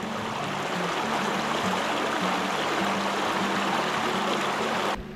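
A river stream near Kalu Waterfall in Maharashtra pours past in a constant, close roar of rushing water, even and full throughout before cutting off abruptly at the very end.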